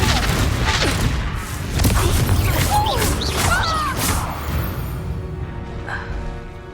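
Confringo and Reducto spell blasts in Hogwarts Legacy, heard as a string of booming crashes and impacts layered with magical whooshes, dense at first, then trailing into a softer ringing tail.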